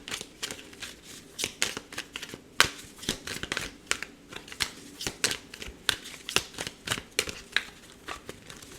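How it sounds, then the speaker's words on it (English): Tarot cards riffle and slap together in a long, close, steady shuffle, with rapid crisp flicks repeating throughout and no voice over them. "It's a long shuffle for you"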